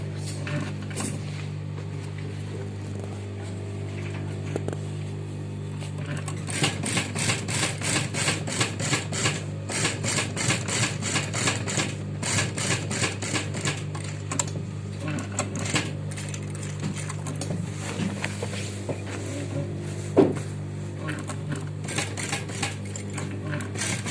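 A sewing machine runs in steady stitching bursts while sewing the permanent seam on a kandura (kandoora) collar, the rapid mechanical chatter starting and stopping over a constant low hum, close and moderately loud, with no talk.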